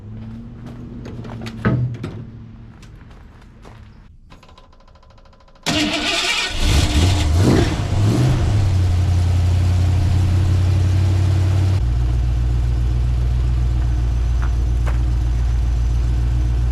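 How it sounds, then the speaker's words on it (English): A truck engine, left unused for a month, cranks briefly and catches, revs loudly, then drops into a steady, rumbling idle with no talking. "first thing I'm going to get to is the truck. I got to start it because it hasn't started for about a month."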